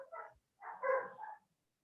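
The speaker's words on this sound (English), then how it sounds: "if you can hear my dogs barking right now" A dog barks in a few short bursts, fairly close, with a brief pause between the first yelp and a longer run of barks.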